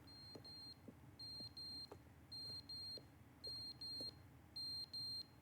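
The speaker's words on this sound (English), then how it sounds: "Fire alarm, smoke detector." Smoke detector fire alarm in the video game The Stanley Parable, sounding in repeated pairs of sharp high beeps with short gaps between them, loud and steady over faint background hum.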